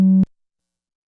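A pure, steady low sine tone from a Eurorack modular synthesizer oscillator, held loud and even for about a fifth of a second, then cut off abruptly into silence.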